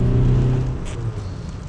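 A Toyota car with a roughly 1.6-litre engine accelerates in second gear, giving a steady low engine drone and road noise heard from inside the car that ease off slightly toward the end.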